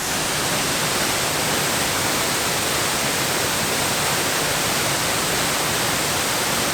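A large waterfall in North Carolina roars steadily at close range, a dense, unbroken broadband rush of falling water that stays constant from start to finish with no voices.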